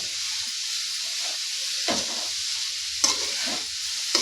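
Grated carrot sautéing in a pan on the stove for gajar halwa gives a steady sizzle and hiss, with a few louder stirring scrapes and clinks near the end.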